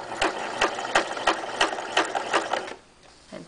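A sewing machine stitching through two layers of fabric along an edge for a locker caddy pocket runs in a fast, even mechanical chatter for nearly three seconds, then stops. The sound is close and clear.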